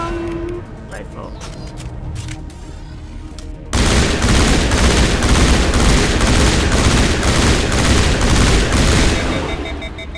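Rifle gunfire in the Mass Effect video game starts suddenly after a quieter stretch of game sound, then runs as a loud, steady burst of rapid shots for several seconds before easing off.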